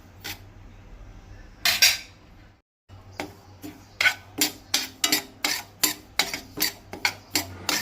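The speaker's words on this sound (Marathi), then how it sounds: "1 कप जाडो रवो घेतला, तो कायलीर घालून बरो 10 मिनटां भाजून घेवपाक जाय।" Coarse semolina being dry-roasted in a pan, stirred with a metal spoon: a brief pause, then a steady run of rhythmic scraping strokes against the pan, close and fairly loud, with no talking.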